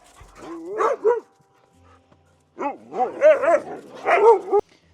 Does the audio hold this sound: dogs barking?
yes